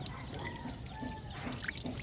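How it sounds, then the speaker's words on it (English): Water runs from a faucet into a sink in a quiet room during hand washing, a soft, steady, faint splashing stream throughout. "turn on the faucet and then regulate the flow of water without touching the sink"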